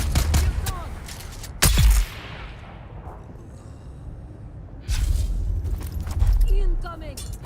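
Gunfire in the sci-fi survival game Dune Awakening: heavy bursts of shots and booming impacts come in two loud clusters separated by a quieter lull.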